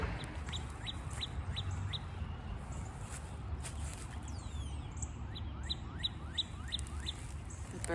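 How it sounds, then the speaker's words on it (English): Morning birdsong outdoors beside a home well: repeated short, bright chirps in bursts at moderate distance over a low background rumble, with faint footsteps. "Birds are singing this morning."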